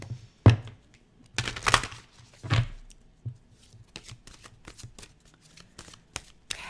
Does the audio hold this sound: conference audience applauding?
no